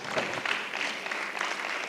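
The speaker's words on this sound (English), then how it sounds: "Let's applaud her." Steady applause from an audience at a SADTU Mpumalanga matric excellence teacher awards ceremony in Mpumalanga, an even wash of clapping hands held through the whole moment with no voices standing out.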